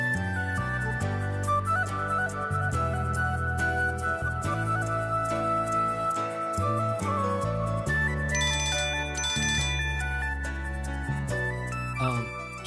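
Phone ringtone for an incoming call, a looping melodic tune playing continuously and fairly loud with no talk.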